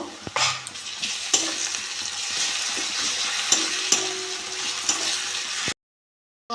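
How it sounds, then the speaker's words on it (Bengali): Onion and ginger-garlic paste frying in a pan for a spicy fish curry, a steady close sizzle with scattered stirring clicks and scrapes, then a sudden cut to silence near the end. "পেঁয়াজটা ভালো করে ভেজে নিয়েছি আদা রসুন বাটা এক চামচ দিয়ে দেবো"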